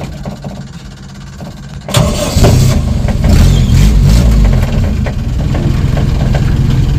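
A 1975 Toyota Corolla KE30 with a 3K engine starts after a quieter stretch, then runs with a loud, close, rough idle and slight revving.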